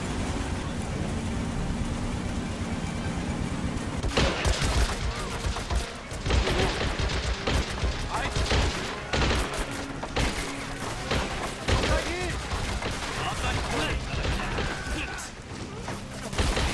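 Rocket strike on massed troops and a tank in the strategy game Men of War 2: Assault Squad, heard as a sustained barrage of loud blasts, thuds and crackling gunfire that erupts after about four seconds and keeps rumbling to the end.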